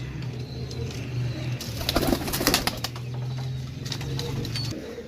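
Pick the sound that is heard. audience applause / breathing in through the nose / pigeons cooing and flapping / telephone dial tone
pigeons cooing and flapping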